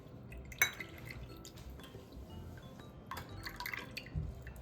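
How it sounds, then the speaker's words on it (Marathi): Kokum liquid, mashed kokum with fine coriander for a Kolhapuri-style solkadhi, is strained through a sieve, giving soft close dripping and trickling with light clinks of a utensil. "हे कोकम असं थोडं मॅश करून घेते आता गाळणीने गाळून घेते"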